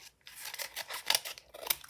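Scissors snip and rustle through a blind bag package's wrapper, a quick series of crisp, close cutting and crinkling bursts with short pauses between them and no voices.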